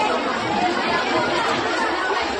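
A large crowd chatters on the bank of the Ganges, a dense wash of many overlapping voices at steady volume with nothing standing out from the murmur.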